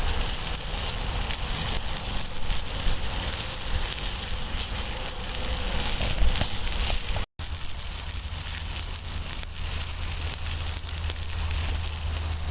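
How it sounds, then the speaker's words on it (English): Steady, dense sizzling and bubbling of wine boiling hard over coals, a continuous crackling hiss with no talking. "that wine's starting to boil off real good"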